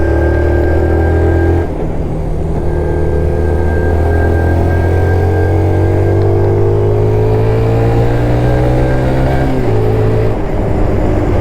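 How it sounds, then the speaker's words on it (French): A Van Van 125 motorcycle, restarted after twenty years standing, runs steadily close by, its engine note rising and dipping through a couple of revs, loud and continuous with no voices over it. "Le bruit est très sympa par contre je trouve pour une petite moto"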